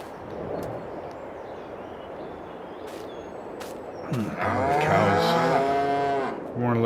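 Cows on a farm in Farming Simulator 22 let out a loud, drawn-out moo close by after a stretch of quiet ambient farm noise, with a second call beginning at the end.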